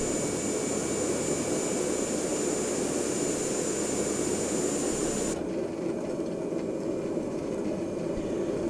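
A bush plane engine taxiing and turning near a tree drones steadily and loudly throughout, with the tone shifting partway through as the aircraft turns.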